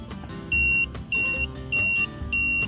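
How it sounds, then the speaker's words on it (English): A continuity tester on the wiring of a 1983 Newell motorhome gives four evenly spaced high electronic beeps, each about a third of a second long, close and clear over a low background hum. "This thing should start blinking and beeping and do all kinds of stuff."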